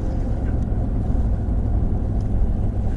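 A Ford F150 Limited pickup towing a trailer in sport mode, its engine droning steadily at raised revs with a continuous low rumble and road noise, close and unbroken, no voices.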